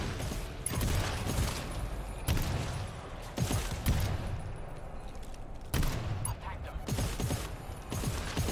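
Shotgun blasts in the co-op shooter game GTFO, a choke-modded shotgun firing several sharp booming shots at irregular intervals amid game noise and mechanical clatter, with players talking over it.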